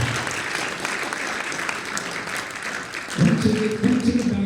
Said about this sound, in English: can I hear a better round of applause for singing